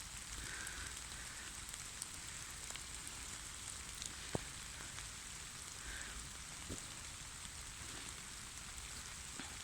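Steady, faint rain falls during an evening walk in a thunderstorm, a soft continuous hiss with scattered drops and occasional small taps, heard alone without voices.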